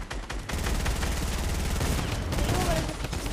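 Dense, continuous automatic gunfire from the video game Fortnite, loud rapid bursts rattling without pause, with a player's excited voice briefly audible over the shooting.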